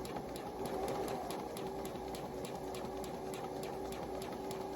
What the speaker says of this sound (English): and then sew right through the middle of it